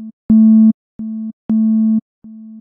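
Serum software synth notes played on a keyboard with velocity sensitivity: four to five separate sustained tones on the same pitch at clearly differing loudness, some soft and some strong, alone with no talk.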